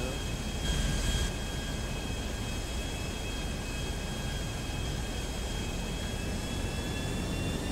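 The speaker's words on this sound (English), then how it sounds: "I have an airplane" An airplane engine in a video game drones steadily, a broad, even roar with a faint whine that holds without letup throughout.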